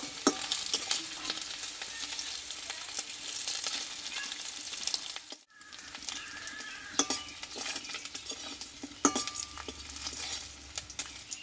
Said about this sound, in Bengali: মাছগুলো কিন্তু দুই পিঠ ভালো করে ভেজে নিল